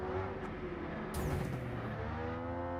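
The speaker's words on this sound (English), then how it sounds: "It's straight up mountain climbing with a McLaren." A McLaren sports car engine droning steadily while it climbs steep rough terrain off-road, a continuous mid-level hum with brief revving swells partway through.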